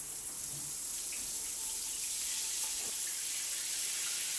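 Water runs through a metal filtered shower head, a 2.5 gallon per minute model, as a steady, even hiss of spray that holds constant from start to finish.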